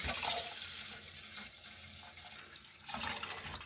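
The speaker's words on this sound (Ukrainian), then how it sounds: "Спочатку в проточній воді потрібно нам рис добре дуже промити." Tap water runs steadily into a bowl while rice grains are rinsed, swished and rubbed by hand, the splashing swelling louder near the end.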